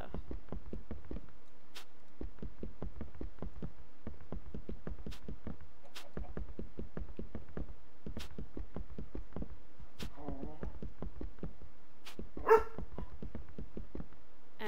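A dog barks in repeated rapid bursts of sharp yaps, steady clusters with short gaps, fairly close and moderately loud, with no talk over it.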